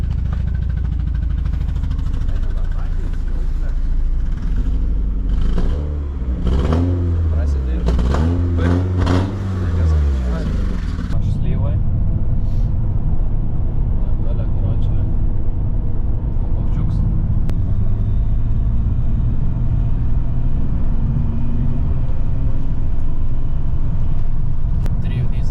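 BMW car engine running close by, rumbling steadily and then revving in several rising and falling sweeps before settling back to a loud idle, with people talking over it.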